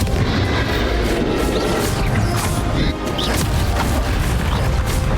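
A Bombarda blasting spell from the video game Hogwarts Legacy, cast in a final boss fight, sets off loud, repeated explosive booms and crashes in a dense, chaotic barrage, with brief vocal bursts mixed into the clamor.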